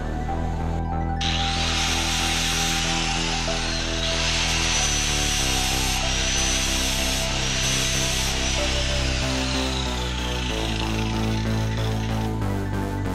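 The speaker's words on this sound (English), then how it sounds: "we'll go ahead and grind down these welds so they're completely flat right here" An angle grinder works steadily on metal welds on a reverse trike frame, grinding them flat with a continuous loud, bright whine that shifts slightly in pitch as pressure changes, close and alone without talk.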